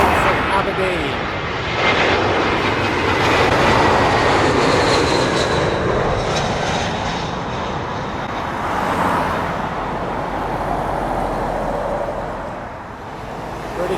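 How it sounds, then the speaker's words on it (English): British Airways Airbus A320 arriving from Aberdeen, landing at London Heathrow, heard as a broad, continuous jet rumble that rises to a peak early, eases, then swells again. "British Airways A320 coming in from Aberdeen."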